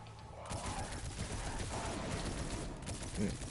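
Rapid gunfire from a weapon in the sci-fi shooter Destiny, a dense burst of close, loud shots that runs through the clip, with someone talking over it.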